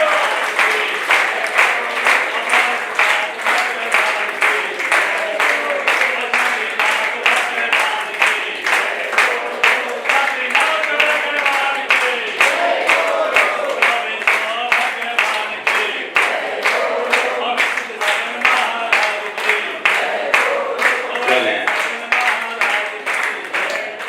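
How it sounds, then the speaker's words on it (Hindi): An audience at a Jain religious discourse and ritual gathering claps in a steady, rhythmic unison beat for about twenty-four seconds, loud and close, with voices calling out amid the clapping. "आप ताली बजाते रहो और जयकारा लगाओ।"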